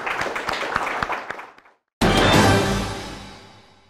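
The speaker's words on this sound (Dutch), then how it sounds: "Mag ik een applaus voor de Indiase regering?" Applause for the Indian government at a Dutch-language COVID-19 news segment: broadband clapping starts sharply after a short silence and fades out gradually, preceded by unrelated sound with sharp transients.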